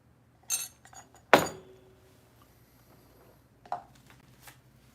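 A glass clinks sharply a few times during a drink, with a louder central clink and softer taps around it, close and clear with no talk over it.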